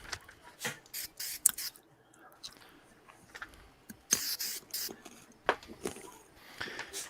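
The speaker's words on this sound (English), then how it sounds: "Spray it on the press and then I spray the back of my pattern." Spray adhesive is sprayed onto a wood piece and the back of a paper pattern in short, close hissing bursts with brief quiet gaps and light handling noise between them.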